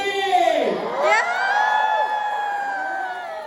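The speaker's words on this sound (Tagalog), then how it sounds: "looks like we have a crowd with us here" A crowd of students at a university program event cheers, whoops and shouts together, loud and sustained with rising and falling voices across the whole stretch.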